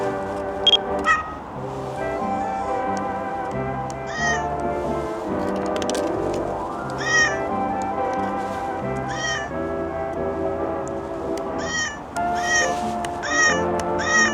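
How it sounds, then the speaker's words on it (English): A budget digital compact camera with its button sounds set to cat meows gives a run of synthetic meows, repeated at irregular intervals over steady music in the background. "now you can actually make all sounds, or all the buttons when I press them, sound like a cat"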